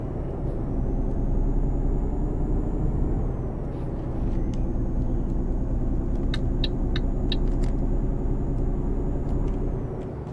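A truck engine held at full throttle in Euro Truck Simulator 2 on a motorway toward Brno, a loud, steady low rumble throughout with brief high clicks near the middle.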